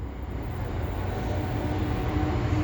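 A Class 66 diesel locomotive starting up behind on a railway, giving a steady low engine drone and rumble that builds slightly louder over a few seconds, fairly close and heard alone.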